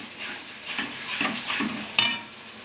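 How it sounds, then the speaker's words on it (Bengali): Masala for Bengali chicken kosha being stirred nonstop in a pan, a spoon scraping through the thick sizzling paste in repeated strokes, with a sharper clink of the utensil near the end. "এইভাবে এইভাবে অনবরত নাড়াবেন নাহলে কিন্তু মশলাটা তলায় লেগে যাবে"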